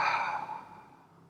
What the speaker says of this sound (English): and breathing out slowly.